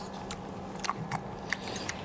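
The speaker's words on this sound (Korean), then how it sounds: "저는 오징어를 제대로 한번 씹어볼게요." Someone chews squid from a spicy seafood jjamppong soup, with soft wet squishy bites and smacking sounds scattered irregularly, close and fairly quiet over low background hum.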